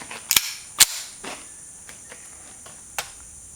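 A CZ 75B 9mm pistol fires Igman 124 grain practice ammunition at a 15-yard target on a range: about four sharp, cracking reports with irregular gaps, the first two close together, over a steady chirp of insects.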